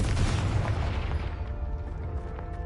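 A Confringo spell explosion in a Harry Potter video game hits as a loud, deep blast, then its boom rolls off and fades over the next couple of seconds.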